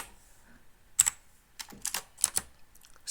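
Close, crisp keystrokes on a computer keyboard while header text is typed into a word-processing document: a lone tap, then a quick rapid cluster of several keys, followed by a few more scattered presses with quiet gaps between.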